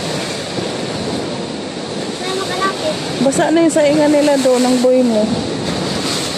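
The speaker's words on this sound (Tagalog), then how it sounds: "Hindi tayo makalapit doon kaya gawa ng lakas ng alon." Heavy ocean surf pounds the shore in a loud, constant roar with wind buffeting the microphone, while a voice speaks over the crashing water.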